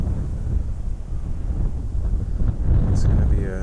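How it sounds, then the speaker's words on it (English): Wind buffeting a microphone outdoors, a steady low rumble that covers the whole stretch and swells louder near the end. "Oh, windy."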